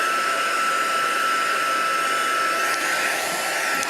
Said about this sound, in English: using my heat tool.